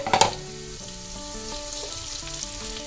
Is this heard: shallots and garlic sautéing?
yes